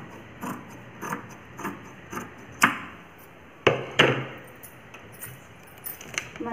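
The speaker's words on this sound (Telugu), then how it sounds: "ఈ ఎక్స్ట్రా అంతా కట్ చేసుకోవాలి" Scissors cut through the extra fabric of a double-folded umbrella frock for a five-year-old girl, making a series of close, crisp snipping and rustling sounds with irregular spacing and a few sharper, louder cuts.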